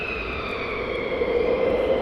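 Fighter jets at RAF Lakenheath spool up for takeoff, giving a steady, loud jet roar with a sustained high whine that swells slightly toward the end of the two seconds.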